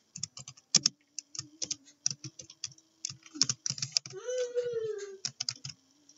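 Rapid clicky typing on a computer keyboard, close and crisp with irregular bursts of keystrokes; a faint steady hum runs underneath and a brief tonal sweep sounds midway.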